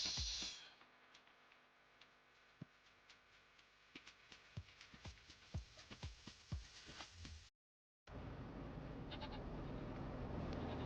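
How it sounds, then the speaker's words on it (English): Several short bleats from sheep, some overlapping, in Farming Simulator, over a steady background hum that cuts out briefly near the end. "Now we got sheep."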